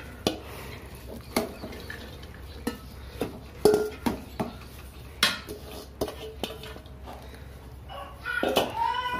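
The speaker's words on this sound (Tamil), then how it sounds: "இப்போ நம்ம எடுத்து வச்சுருக்கிற பொறிச்சு வச்சுருக்கிற பூந்திகளை எல்லாம் பாகில் சேர்த்துடலாம்." Fried boondi is stirred into sugar syrup for ladoo, a spoon clanking and scraping steadily against the metal pot in uneven strokes, with a soft background hum and a voice talking underneath.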